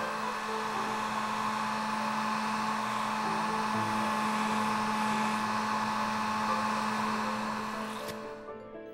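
A hair dryer blows steadily and close up while drying a watercolor painting, a continuous whirring hum with a tonal whine that runs unbroken for several seconds and then cuts off near the end.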